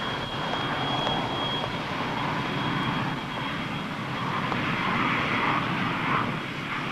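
An airplane engine at an airport, a loud, steady roar close by that holds for the whole stretch with a faint high whine above it and no voices.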